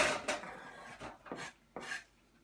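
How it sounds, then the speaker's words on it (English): Chunks of onion are dropped into a roasting tray for a roasted vegetable curry, making a few close, clattering bursts separated by short pauses. "I'm just going to pop them into the tray."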